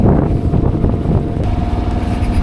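A loud, rumbling boat engine runs continuously up close, its low throbbing steady with rough, churning texture.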